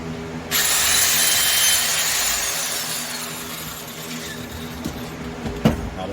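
A power drill bores into wood at a woodturner's bench, starting abruptly with a loud, steady high whine that sags slightly under load, and a few clicks and a knock near the end.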